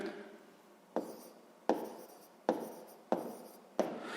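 Pen or pencil writing numbers by hand on paper: five distinct scratchy strokes at regular intervals, close and fairly quiet, with no talk.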